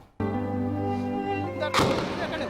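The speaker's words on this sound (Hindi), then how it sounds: "ये दूसरा धमाका हो गया" A sustained harmonic drone is cut by a sudden loud bomb blast in Karsaz, Karachi, followed by a broad noisy roar as the explosion rolls on.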